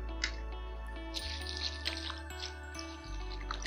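Water poured over sliced onions in a large bowl for washing, heard as soft drips and small liquid squishes over a steady low hum, close and fairly quiet with no talking.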